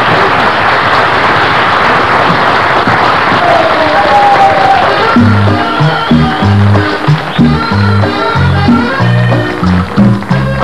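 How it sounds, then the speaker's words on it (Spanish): A loud audience at a comedy stage show bursts into dense, crackling applause, which then continues under music with a heavy rhythmic beat. "Un aplauso muy fuerte."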